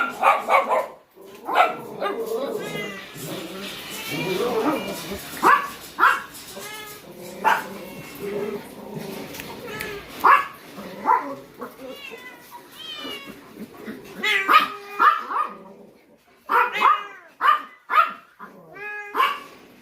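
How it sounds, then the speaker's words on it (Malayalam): A Great Dane barks and a Bengal cat meows on a pet farm, the two animals trading loud, close calls in irregular bursts throughout, with barks and meows often overlapping and brief pauses between them. "ബംഗാൾ ക്യാറ്റ് ഉണ്ട്. പിന്നെ ഗ്രേറ്റ് ഡെയിൻ ഉണ്ട്."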